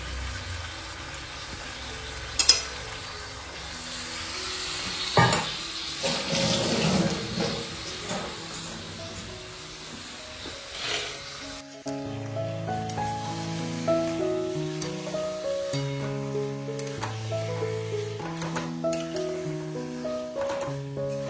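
Meat sautéing in a pan of oil for a quick curry: a steady, soft sizzle with a couple of sharp clicks for about twelve seconds, after which music takes over and the frying fades beneath it.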